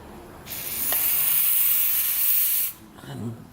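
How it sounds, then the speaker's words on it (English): One sustained hissing spray of brake cleaner from an aerosol can into the EGR valve of a 2007-2009 Sprinter, close and steady for about two seconds, followed by a brief faint voice. "You're just going to spray throughout here and inside of here."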